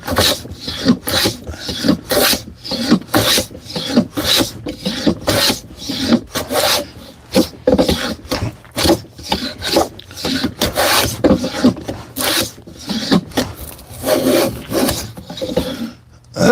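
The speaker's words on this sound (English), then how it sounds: "I love getting curls from planing." A hand plane shaving curls off wood in a carpentry shop, loud, close, repeated rasping strokes in a steady rhythm with brief pauses between passes, no talk.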